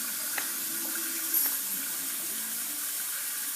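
Warm water splashes and runs steadily while a small animal is warmed after freezing, a close, continuous wash of water with faint knocks and no talking.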